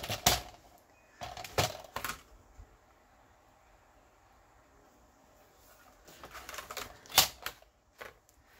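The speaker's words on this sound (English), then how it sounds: "So now I'm just going to trim this down." A desktop paper trimmer cuts through a paper pocket for a ring binder farm journal. Quiet, sharp clicks and slicing swishes come in short separate bursts, with calm gaps between them.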